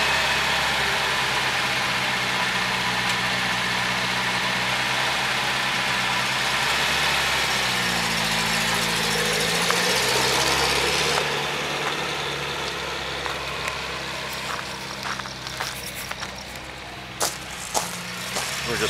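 A Datsun 521 pickup's engine idles steadily and close by, a low continuous rumble with faint shifts, later joined by scattered clicks and knocks as the little truck is moved into a backyard.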